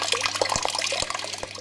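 Water is tipped out of a cooking pot after rose hips have been boiled, giving a short splashing pour with a few distinct gurgles and drips, close and fairly loud.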